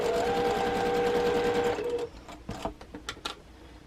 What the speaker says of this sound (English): put my needle down, just do it slowly, take a few back stitches